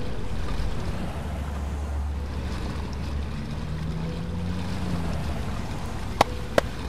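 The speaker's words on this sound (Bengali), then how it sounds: "যত গভীরই হোক না কেন এটা ভেসে থাকবে, মানে গাড়িটা আসলে নৌকা হয়ে গেল" An amphibious car floats and moves through water, giving a steady wash of churning water and motor drone with wind buffeting the microphone, and two sharp clicks near the end.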